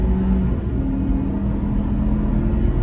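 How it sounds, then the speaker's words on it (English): A 2021 Ford Ranger pulling away from a dead stop, heard as a loud, steady engine drone and road rumble from inside the cab, with low engine tones that rise slightly and hold without letup. "I'm doing a pull from a dead stop."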